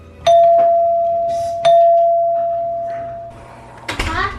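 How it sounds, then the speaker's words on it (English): Household doorbell chiming twice, each tone ringing out with a long decay, then a short clatter of movement afterward. "I think we have a doorbell."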